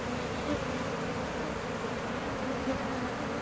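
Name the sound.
honeybees buzzing during hive removal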